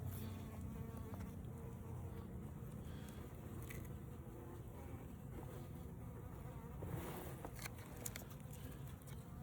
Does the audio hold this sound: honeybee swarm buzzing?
yes